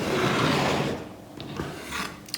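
A knife slices through cured, dried duck breast on a cutting board with a close, rasping scrape lasting about a second, followed by softer brief cuts.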